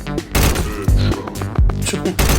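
Rapid gunshots from the Mr. Gun mobile shooting game, a loud dense burst of repeated blasts with brief gaps, filling the whole moment without talk.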